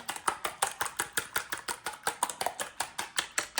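Two large eggs are beaten in a bowl for pancake batter, a fast even train of sharp tapping strokes, close and loud with no voices.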